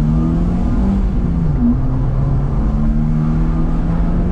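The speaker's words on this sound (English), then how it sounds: "Let's see if first gear is any louder." A modified Vauxhall Corsa C engine revs in first gear, giving a steady, loud, droning hum with a faint whirring tone throughout, and no one talking over it.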